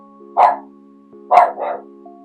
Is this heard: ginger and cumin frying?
no